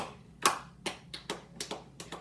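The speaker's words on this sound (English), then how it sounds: "Let's get a round of applause." A small round of applause, a handful of sparse, separate hand claps at an uneven pace, faint and fairly close, with no voices.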